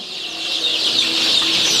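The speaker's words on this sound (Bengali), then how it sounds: "দেখছেন মুরগি কীভাবে পানি খাচ্ছে" Desi chickens cluck softly while drinking water at a brooding setup, a continuous close chorus of small fowl calls with no talk.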